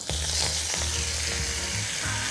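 Fresh coriander dropped into a hot tempering for beetroot chutney, with the stove switched off, gives a loud, steady, close crackling sizzle that runs unbroken through the whole stretch with no talking.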